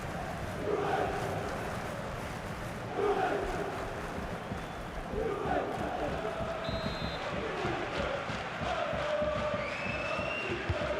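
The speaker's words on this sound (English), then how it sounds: "The crowd are certainly playing their part." Stadium crowd in a FIFA 23 match between Juventus and SL Benfica, a continuous roaring murmur with several swelling cheers, heard beneath steady commentary talk.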